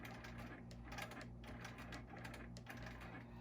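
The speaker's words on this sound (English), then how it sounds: "I'm going to do a few tie-offs." Home sewing machine running steady rapid stitches with glitter specialty thread, a continuous close mechanical whir with fine repetitive ticking throughout.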